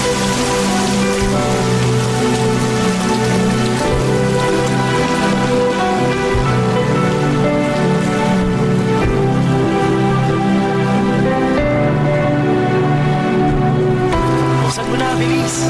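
Steady, dense rain falls on surfaces, loud and continuous throughout, with many close drips and patters layered over a constant hiss and no talking.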